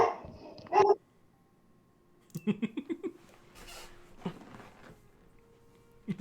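A dog barks in a rapid burst of about five close yaps, followed by a couple of later isolated barks, fairly near and moderately loud, with a brief spoken exclamation at the start.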